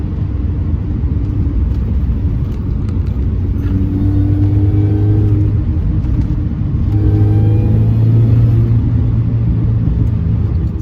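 A supercharged car engine rumbles steadily and revs up twice, rising in pitch, loud and close with a deep continuous drone.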